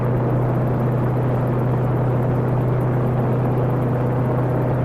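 Simulated Mini-500 light helicopter flying in X-Plane, a continuous steady engine drone with a strong low rotor hum, loud and unbroken throughout, no voices.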